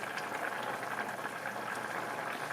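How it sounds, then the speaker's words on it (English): Green tomatoes frying in a shallow layer of grease in a pan give off a steady, dense sizzle and crackle that holds at an even level throughout, with no talking. "she's not deep frying them, but she is frying them"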